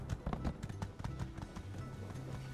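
Horse hooves clip-clopping in My Time at Sandrock, a steady, fairly quick run of soft thuds at moderate distance over faint game ambience, with no talking.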